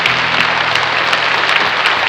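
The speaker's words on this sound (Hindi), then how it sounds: "एक बार जोरदार ताली से स्वागत करी यश कुमार जी के" Loud, dense applause from an audience at a Bhojpuri film awards show welcoming actor Yash Kumar, steady and sustained throughout with no talking over it.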